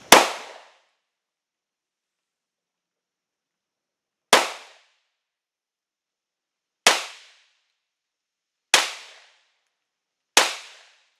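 Pistol shots fired with a Vickers Tactical flat-faced trigger at a shooting range ring out as five sharp, loud cracks. Each crack is spaced a few seconds apart at first, then comes more quickly, and fades quickly, with no talking.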